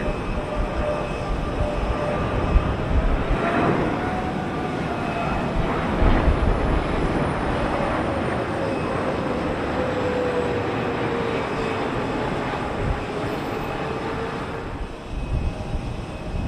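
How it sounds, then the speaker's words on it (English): An Air Canada Boeing 777-300 arriving from Toronto comes in to land at Heathrow, its engines a broad, steady roar with a slowly shifting whine, loud and continuous throughout. "Air Canada's Boeing 777-300 coming in from Toronto"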